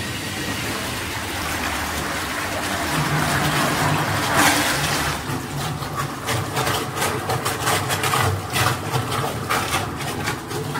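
A 500L electric-heating vacuum emulsifying mixer with hydraulic lifting runs steadily, a loud broad mechanical hiss and whir with a low hum underneath that holds throughout, with no talk over it.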